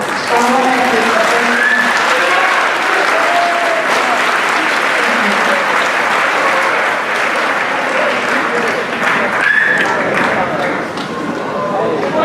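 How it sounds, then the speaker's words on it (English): Sustained applause from a banquet audience honoring scholar athletes at an athletic hall of fame event, loud and steady throughout, with brief voices and cheers mixed in. "let's have an applause for our scholar athletes"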